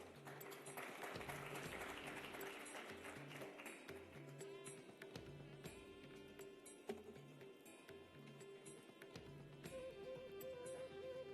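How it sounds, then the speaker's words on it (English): Broad, steady applause from an awards-ceremony audience greeting the nominees, continuing over a sustained musical or tonal background throughout. "Let's give our nominees a big round of applause until then."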